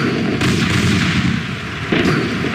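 Gunfire in the War of the Worlds musical drama, loud heavy booming blasts with a dense rumbling wash, one big impact near the start and another later, alone without talk.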